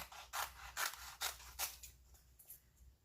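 A warm custom mesh stencil being peeled away makes quiet, close rasping bursts at a quick, even rhythm for about two seconds, then fades to soft, scattered rustles.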